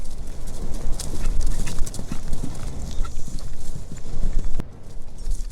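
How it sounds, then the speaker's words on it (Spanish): Horses gallop with rapid, continuous hoof clip-clop, loud and close over a rushing noisy background, for a fantasy chase in The Lord of the Rings, with no talking. "Ni siquiera aquellas grandes cabalgaduras podían rivalizar en velocidad con el caballo élfico de Glorfindel"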